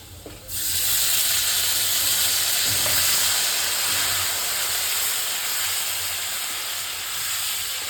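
Chopped tomatoes hit hot oil with fried potatoes for a pangas fish dish, setting off a sudden loud hiss that settles into a steady, dense sizzle.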